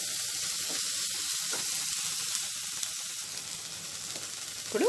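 Green chillies and vegetables fry lightly in a pan for a sweet corn bread toast sandwich, giving a steady, close crackling sizzle throughout, with a brief tonal squeak right at the end.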